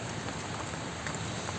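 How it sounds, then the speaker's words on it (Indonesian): Rain falls steadily in a constant soft hiss of drops landing on surfaces nearby, with no voices over it. "Hujan lagi teman-teman."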